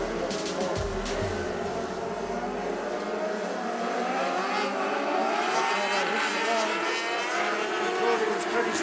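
A field of Formula 500 race cars at Rockhampton Speedway roars off the start together: layered engines rev and climb in pitch, loud and close, with a brief low thump near the beginning and a commentator's voice mixed underneath.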